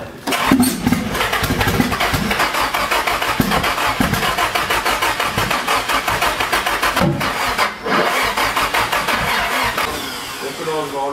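A Nissan SR20DET engine fires up for the first time, catching into a loud, close, rhythmic idle that runs continuously, with people talking over it.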